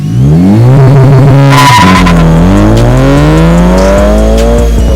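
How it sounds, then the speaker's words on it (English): A Honda Civic Si launching from a standstill with launch control: engine revs held high, then a tire squeal and a surge of acceleration as the revs climb through a gear, loud and close, with no talking. "So apparently the car does have launch control, so I'm gonna give it a try right now."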